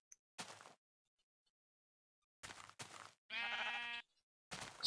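Sheep in Minecraft bleat in several short, close, loud bursts separated by silences, with one longer quavering bleat in the middle and no talking.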